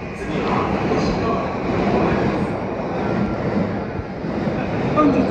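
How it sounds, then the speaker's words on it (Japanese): A Sotetsu Izumino Line rapid train bound for Shonandai runs at speed with a loud, steady rumble and roar from inside the carriage. An onboard announcement plays over the noise. "この電車は泉野線直通快速湘南台行きです。"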